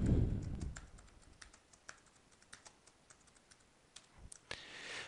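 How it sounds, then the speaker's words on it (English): A credit card number is typed on a computer keyboard, a quiet, irregular scatter of nearby key clicks with short pauses between them, after a brief low thump at the start. "We enter the credit card number."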